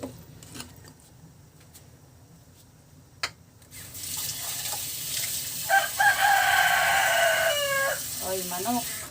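A rooster crows loudly and close by, a drawn-out call with a few trailing notes, over running water and faint kitchen clatter.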